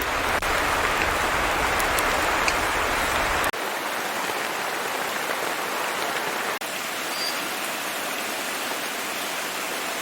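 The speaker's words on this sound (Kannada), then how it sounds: "ಸ್ವಲ್ಪ ಬಿಳಿ ಎಳ್ಳು ತಗೊಂಡಿದ್ದೇನೆ, ಸ್ವಲ್ಪ ಹುರ್ಕೊಳ್ಳುವ." White sesame seeds dry-roast in a pan, a continuous soft hiss like light rain that drops slightly in level partway through and carries on steadily, with no voices.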